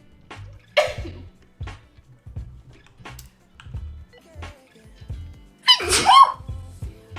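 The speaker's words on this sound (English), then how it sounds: "I just sneezed." A young woman sneezes twice up close, one sharp burst early and a stronger one near the end, with small rustling and breathing noises between them.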